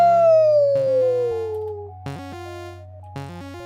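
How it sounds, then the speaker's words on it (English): In the video game You Will (Not) Remain, a dog's sound comes as a drawn-out, falling howl followed by two short, clear yips over a low, steady ambient drone, with no talking. "Is that a dog?"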